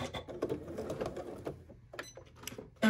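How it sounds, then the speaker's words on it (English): A sewing machine stitches fabric for a pencil case close by, with a short run of rapid mechanical whirring and needle clatter that slows into a few separate stitches and clicks. "Here we are back at the sewing machine, and I'm just gonna start actually at the bottom where I intend on leaving my opening."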